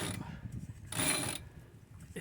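A stiff, unserviced sailboat winch is cranked hard aboard a yacht in strong wind, giving rough mechanical grinding and ratcheting bursts, with a louder, harsher stretch in the middle of the turn.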